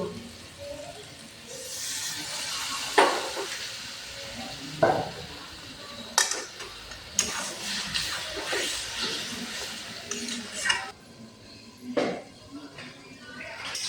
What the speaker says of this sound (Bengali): টমেটো আলু ভালো করে কষিয়ে নিয়েছি, মশলা থেকে তেল ছেড়ে গেছে